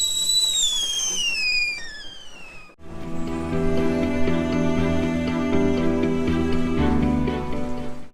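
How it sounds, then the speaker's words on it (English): Aboard a boat, a kettle comes to the boil with high whistling tones that slide downward, then a close, dense hissing, bubbling roar that carries on steadily. "Kettle's boiling, Jamie."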